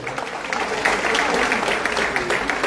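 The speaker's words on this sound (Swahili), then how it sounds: "Makofi mazuri" A church congregation claps for a pastor, a brief burst of scattered applause with a voice talking over it.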